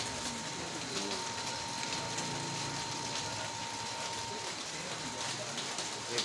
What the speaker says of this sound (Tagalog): medyo malakas na ulan